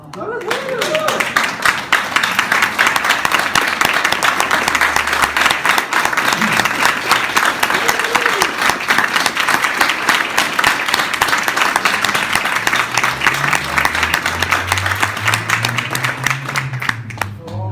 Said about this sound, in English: how about a standing ovation for these leaders, will you?